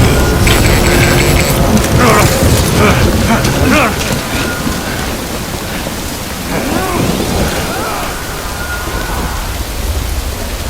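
Heavy rain in the video game Death Stranding, a loud continuous downpour with rumbling thunder, steady wash of noise throughout.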